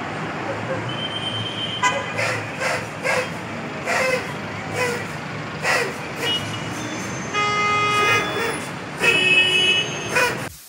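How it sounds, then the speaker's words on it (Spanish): Many car horns honk repeatedly in a traffic jam over a constant roar of street traffic, short and long blasts overlapping from several vehicles nearby. "Escuchemos la pitazonta berraca que forman."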